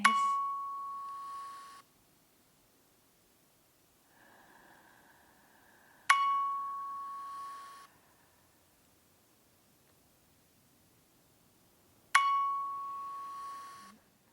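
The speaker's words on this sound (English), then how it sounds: "And now I'll turn off the bell." A meditation bell strikes three times at slow, even intervals, each bright ring decaying over a couple of seconds into near silence during a quiet breathing practice.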